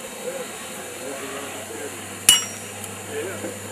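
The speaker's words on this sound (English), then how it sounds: "use my hammer as a guide" A blacksmith's hammer strikes hot iron once while forging a bulldog head hat rack, giving a single sharp metallic clink over a steady hiss of the forge.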